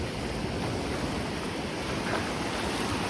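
Ocean surf on Hua Hin beach, a continuous loud wash of breaking waves with wind buffeting the microphone, steady throughout with no talk.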